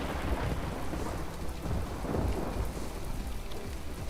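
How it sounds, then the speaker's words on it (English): Steady rain and low rolling thunder in the naval combat game From The Depths, a dense continuous wash of rainfall with deep rumbles swelling underneath. "it's no longer stopping the rain"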